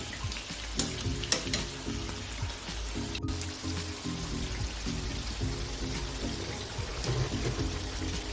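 Talan fritters deep-fry in hot oil, a dense, continuous bubbling sizzle with a few sharper crackles and pops, close and steady, no voices.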